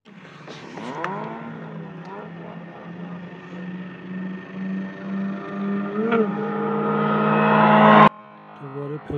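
Peugeot and Citroën Xantia cars drag racing, engines roaring as they launch and climb through gears with rising pitch sweeps, growing louder before an abrupt cutoff near the end.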